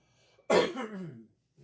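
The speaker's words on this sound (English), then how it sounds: "I have a little bit of a cough left" A single harsh, loud cough from an adult man bursts out abruptly and rasps for under a second before trailing off, close to the microphone in an otherwise quiet room.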